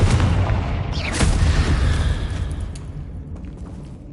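An explosive Confringo spell goes off in the video game Hogwarts Legacy, a loud booming blast with a rumbling tail that slowly fades over several seconds.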